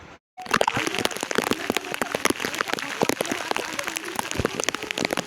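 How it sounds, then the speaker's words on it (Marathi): Steady, dense patter of rain falling on a hard surface, close and continuous, with scattered louder drops and no talking, at Malavli. "पाऊस दिसत असेल तुम्हाला."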